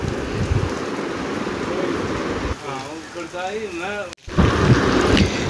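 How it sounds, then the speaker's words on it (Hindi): Heavy rain pours steadily outside a small shop, a dense, broadband hiss that carries on throughout, with a brief voice or melodic sound partway through and a sudden sharp dropout before the downpour resumes. "आप देख सकते हैं बारिश काफ़ी तेज़ हो गई है।"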